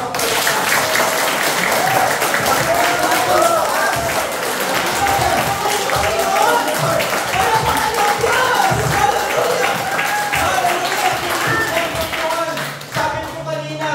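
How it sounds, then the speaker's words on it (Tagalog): A Filipino church congregation claps together in praise of God during a resurrection sermon, steady loud rhythmic clapping with crowd voices and music running underneath. "Sige nga, papalakpakan po natin."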